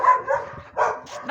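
A dog gives three short bursts of barking or yipping close by, each a sharp little cluster with brief pauses between, loud and clear with no talk over it.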